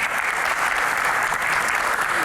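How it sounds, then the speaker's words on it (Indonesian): Studio audience applause during an Indonesian Q&A talk show, a steady dense wash of clapping filling the whole moment at even loudness. "Tepuk tangan dong."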